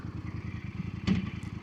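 A VOGE DS900X adventure motorcycle idles with a steady low throbbing engine pulse, and a single clunk sounds midway as the gearbox drops into neutral.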